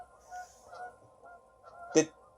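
A goose gives one loud, brief honk near the end, standing out sharply against a quiet, low background.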